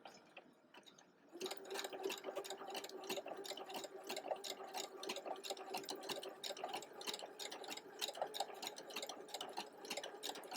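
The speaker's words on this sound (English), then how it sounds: "let's go ahead and start pressing on the pedal, and the machine will do the majority of the work for you" A sewing machine stitching a zigzag buttonhole starts after a brief quiet moment, then runs with a steady, fast, even clatter of needle strokes, close and moderately loud, with no talking.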